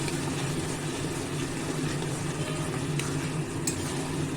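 Fish-head bottle gourd curry with garam masala stirred in a pan, giving a steady, even sizzle and soft stirring throughout.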